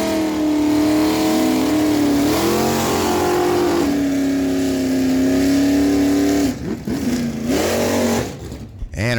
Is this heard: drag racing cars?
yes